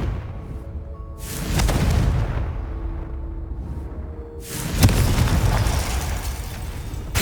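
Two booming blasts from the Confringo spell in the video game Hogwarts Legacy, each a sudden burst with a rumbling, crackling tail, spaced a few seconds apart over a steady game background.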